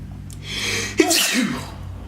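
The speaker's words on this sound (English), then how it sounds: "I just sneezed on camera" A single sharp sneeze bursts out after a short intake of breath, close and fairly quiet overall.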